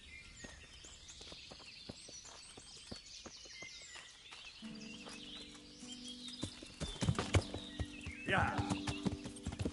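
A horse's hooves clip-clop in a video game, a steady run of light rhythmic knocks at a moderate distance, joined by game sounds, with a voice briefly speaking.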